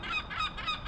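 Repeated honking seagull calls, loud and close, overlapping in a steady stream of squawks with no talking.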